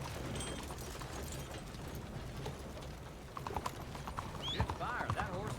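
Horse hooves clip-clopping in Red Dead Redemption 2, a soft irregular patter under game ambience that grows busier and louder toward the end, with voices talking over it.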